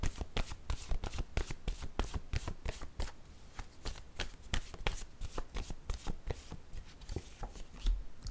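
Playing cards are shuffled and dealt in a rapid, steady run of crisp riffling flicks and slaps, close and clear with no talking.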